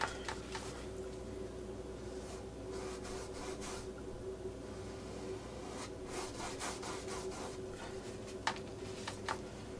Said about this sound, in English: I am going to use my bristle brush again, number 8, and start painting some of this in